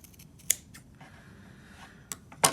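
Scissors snipping fabric for a V-neckline band, with a few crisp close cuts at the start and end and a quiet pause between them.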